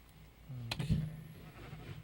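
A single short sheep bleat from a Minecraft modpack game, a brief mid-level cry standing alone over a quiet background with faint clicks around it.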